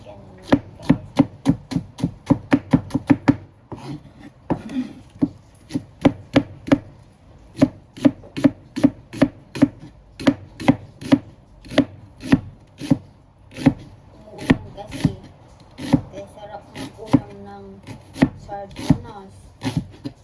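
Sardines and chili being chopped on a cutting board: rapid, evenly spaced knife strikes close up, with a short pause before the steady chopping resumes, and no talking.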